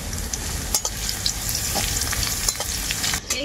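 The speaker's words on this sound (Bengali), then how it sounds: "এই থেতো করা রসুনটা কিন্তু খুব বেশি ভাজবো না, অল্প হালকা করে ভেজে নেব।" Crushed garlic with dried red chilli pieces and nigella seeds fries in hot oil, giving a close, busy sizzle with scattered pops and spoon scrapes throughout, steady and loud with no voices.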